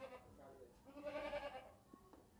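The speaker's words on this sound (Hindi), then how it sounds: "ये देखे सुकून से बकरी खड़ी है, बच्चा दूध पी रहा है।" A goat on a farm, standing calmly while its kid nurses, lets out one drawn-out bleat midway, fairly close, over low background noise.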